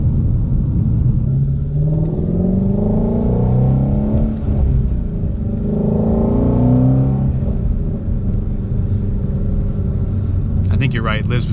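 A Shelby GT350's engine and exhaust pull hard through two long accelerations, the loud, steady roar climbing in pitch each time and easing between pulls.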